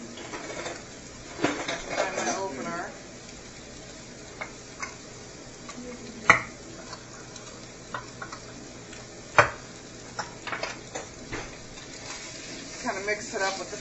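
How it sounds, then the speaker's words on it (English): Evaporated milk being stirred into flour in a cooking pot, a spoon scraping and knocking against the pot in irregular clicks and taps over a soft background sizzle, with a few louder clanks. "mix it up with the flour in there a little bit"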